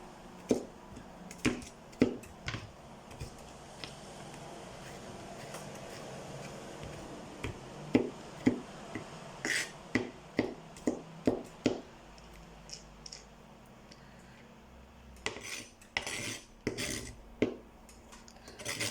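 Knife slicing ingredients for Portuguese feijão on a cutting board, a series of sharp chopping taps in irregular bursts, then a pause and another cluster of cuts, close and fairly quiet.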